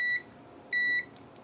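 A multimeter's continuity tester on a Nintendo Switch circuit board gives two clear electronic beeps, a short one then a longer one after a pause, loud and close with no voices.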